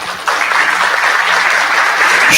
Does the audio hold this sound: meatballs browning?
no